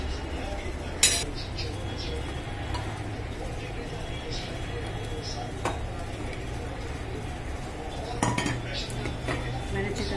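Gram flour slurry going into a pot of chicken nihari and being stirred, with metal clinks and scrapes of a spoon against the pot over a low steady simmer, a few sharper knocks standing out.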